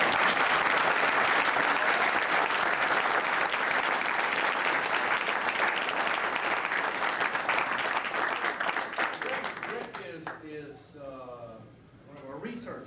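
Audience applause at a pressure point methods seminar, a dense steady wash of clapping from a crowd that tapers off toward the end as voices begin to emerge.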